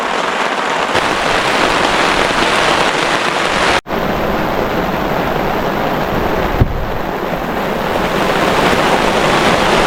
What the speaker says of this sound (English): I don't know if you can hear it, but the rain is super heavy